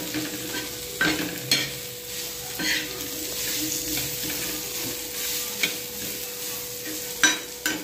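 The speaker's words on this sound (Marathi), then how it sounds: "मिक्स करून घेते मी सगळा मसाला" Roasted masala being stirred in a frying pan, a continuous soft sizzle with scraping strokes of a spoon and occasional sharper clinks against the metal, steady and close.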